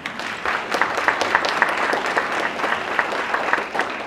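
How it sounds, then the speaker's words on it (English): An audience at a political speaking event breaks into steady applause, a dense wash of clapping hands at moderate loudness that holds for several seconds without voices over it. "Yes, you can clap."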